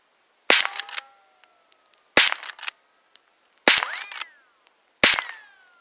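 Four sharp rifle shots are fired at a paint can target about 200 yards away on a distance shooting range. Each crack rings briefly, spaced a second or two apart with quiet gaps between, and no talking.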